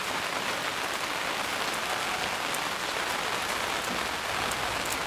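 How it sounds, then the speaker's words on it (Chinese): Heavy rain pours down outdoors at an open-air cooking spot, a dense, steady hiss of drops hitting surfaces, loud and unbroken throughout with no voices. "下雨大了，赶紧过来"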